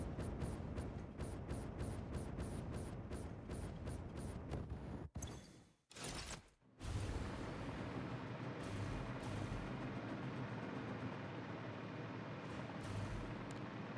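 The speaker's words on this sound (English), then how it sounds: "Oh yeah, I think there is a cannon over there." Cannon fire in the factory-building game Satisfactory: dense, rapid booming blasts roll on continuously, with a brief dip in the middle before the heavy barrage resumes, loud and close.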